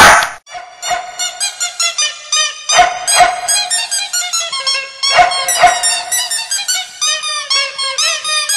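A small dog gives a rapid series of high, squeaky yips and barks, close and loud, pausing briefly between bursts, with no talking.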